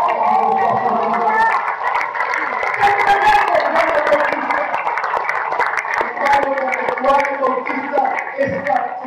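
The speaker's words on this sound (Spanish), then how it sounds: "¡Aplausos!" A church congregation applauds and cheers during a sermon, a steady dense wash of clapping and crowd noise filling the space at close range.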